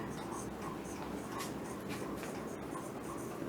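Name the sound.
writing on a board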